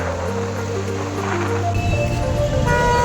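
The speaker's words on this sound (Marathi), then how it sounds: "कारण संध्याकाळ टायमिंगला ट्रॅफिक इथे खूप असतं" Dense evening road noise with idling and passing engines and a sustained low rumble, the traffic loud and close.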